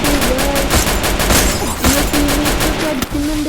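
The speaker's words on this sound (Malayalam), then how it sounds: "അവൻ വെടിച്ചു." Rapid bursts of automatic gunfire in a first-person shooter video game, loud and continuous across the clip with clicks and tonal game sounds mixed in, no talking.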